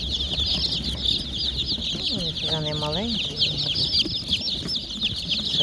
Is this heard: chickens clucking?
yes